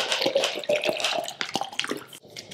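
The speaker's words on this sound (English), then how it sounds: "add water" Water is poured into a shaker bottle to mix an AG1 drink powder, a short splashing fill with bubbly trickling and small clinks, close and fairly loud, with no talking.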